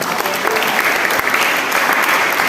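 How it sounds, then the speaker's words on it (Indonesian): Congregation applauding during a Sunday church service, a dense, steady wash of many hands clapping that holds loud and even for the whole stretch. "Saudara, tepuk tangan untuk Tuhan Yesus."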